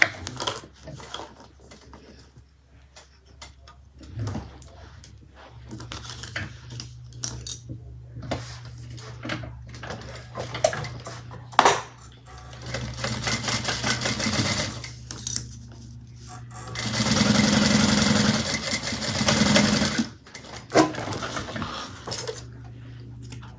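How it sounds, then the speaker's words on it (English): Sewing machine stitching bag gusset pieces together at a 3/8-inch seam, a steady mechanical run that builds to a loud, sustained burst near the end, with quieter handling clicks before it. "And we're going to sew that at 3/8 of an inch."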